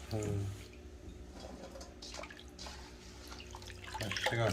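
Broad bean pods are washed by hand in water, with splashing and dripping close by as someone speaks over it, the water louder at the start and end.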